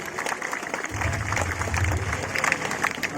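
An audience at a police station anniversary event claps together to welcome guests, a short burst of dense, mid-distance applause that swells after a moment and continues steadily.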